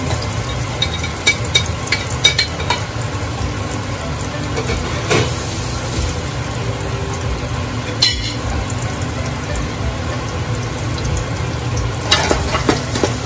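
Chopped onion frying in a hot pan for fresh lumpia, a steady broadband sizzle with scraping stir strokes and a few louder clatters of the utensil, close and continuous with no talking.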